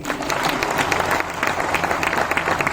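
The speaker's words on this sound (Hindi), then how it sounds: "एक जोरदार ताली" A crowd at a gathering claps energetically and continuously, a loud, even roar of applause filling the short stretch without any break.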